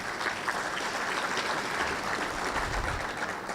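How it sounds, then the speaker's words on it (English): Room full of attendees at a regional business summit claps continuously, a moderately loud, even wash of applause throughout. "And give yourselves a round of applause."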